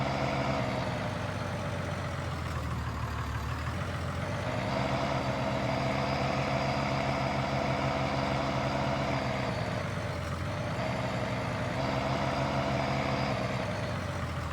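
Truck engine idling in the Farming Simulator 19 game, a steady, continuous low rumble with a constant hum that holds level throughout, with no talking.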